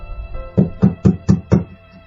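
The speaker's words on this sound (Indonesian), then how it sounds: "mengetuk pintu rumah tersebut" Five firm, evenly spaced knocks on a house door ring out close and clear, with no voices.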